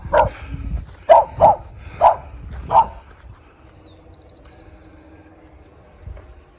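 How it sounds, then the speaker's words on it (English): A pack of chihuahuas, likely wild ones, lets out a quick run of about five sharp, high yapping barks close by, then falls quiet with a faint background hum. "Uh-oh, pack of wild chihuahuas"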